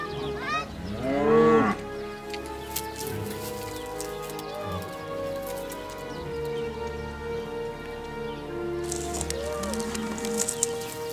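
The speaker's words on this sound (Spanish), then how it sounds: "Algunas vacas muestran una gran curiosidad por nuestras cámaras." Cows on a rural hiking route out of a village moo nearby, with one loud low call early and softer lowing later over steady outdoor ambience.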